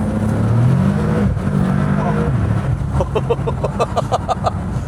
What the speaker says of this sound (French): L'auto elle patine dans tous les sens, c'est une horreur.